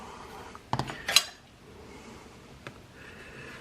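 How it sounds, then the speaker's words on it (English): Epoxy being mixed for a knife handle build, heard as a few quick clinks and scrapes of a utensil against a container, bunched near the start and then one small tap before a quiet room. "We'll go ahead and mix this stuff up."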